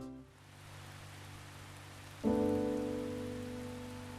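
Rain from the old rain system of the indie game Nectar, a steady soft hiss of falling rain that is joined partway through by a louder sustained tonal layer.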